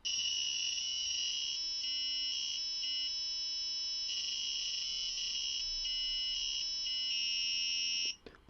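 A high-pitched electronic buzzer driven by an Arduino sounds steadily for about eight seconds, broken by a few short gaps, then cuts off. No voices are heard.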